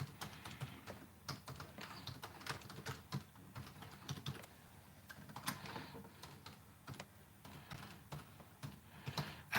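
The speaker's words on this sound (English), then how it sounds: "So let me write that in the chat." A message is typed into a live chat on a computer keyboard, a faint, steady patter of soft key clicks with no talking.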